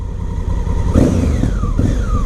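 2017 Honda Africa Twin with a loud aftermarket exhaust pipe, engine note rising and falling while riding, close and loud under wind rush, with sliding pitch and no clear distinct pops.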